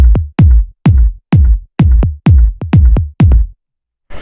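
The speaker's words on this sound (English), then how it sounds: "So that's just a really simple little tom bass." Deep, punchy tom-like bass hits mixed with a kick drum in a Solid Grooves-style house track, eight strikes in a steady rhythm, loud and alone, then a brief noisy burst at the end.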